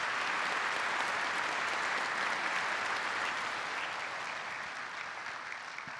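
An audience at a March 1st Independence Movement Day ceremony gives performers a long, steady round of applause that fills the room and holds for six seconds, easing slightly at the end.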